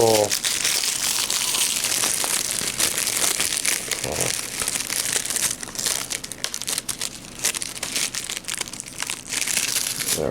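Plastic wrapping is peeled off an anime Blu-ray set. The crinkling and crunching are close, loud and almost continuous, with sharp bursts as the film is pulled and crushed.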